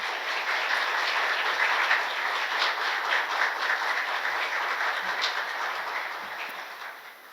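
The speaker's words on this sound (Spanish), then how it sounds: "Un fuerte aplauso." An audience at a lecture session applauds steadily, a dense, moderately distant wash of clapping from many hands that gradually fades toward the end.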